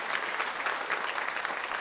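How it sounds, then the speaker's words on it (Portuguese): A church congregation claps, a dense steady patter of many hands throughout, fairly loud and continuous with no talking over it. "Está batendo palma, né?"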